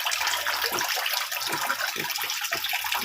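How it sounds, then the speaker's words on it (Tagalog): Water rushing and splashing steadily while being changed in a concrete tilapia pond, a dense, continuous gushing wash, close and loud, with no voices. "Pinapalitan yung tubig."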